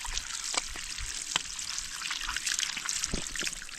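Spring water trickling from a natural spring on a Philippine farm, a steady close, bright babbling dribble running throughout with small splashes, no talking over it.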